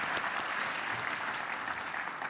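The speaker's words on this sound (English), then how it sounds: "let's give a round of applause to say welcome" An audience at a science and society address applauds steadily, a close, even wash of many hands clapping throughout.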